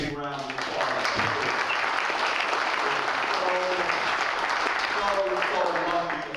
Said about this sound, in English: Let's give Walt and Nancy a big round of applause.